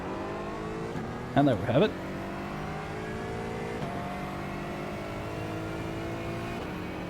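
Aston Martin GT4 race car in the iRacing sim, a steady engine drone running throughout with a brief louder burst of revving early on, heard under someone talking.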